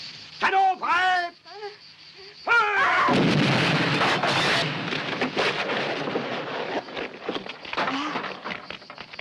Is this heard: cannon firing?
yes